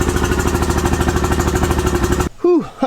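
An early 2000s Mercury outboard motor idles after a fuel pump and filter replacement, its close, loud, even chugging pulses running steadily before cutting off abruptly, followed by a brief spoken remark.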